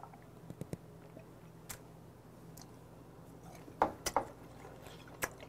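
Several close, soft, wet chewing and squishing sounds of raw tuna sashimi with sinewy flesh, in short bursts against a quiet background.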